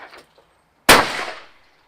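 A single shotgun blast at a clay pigeon, sudden and loud, with a long fading tail of echo after a quiet pause.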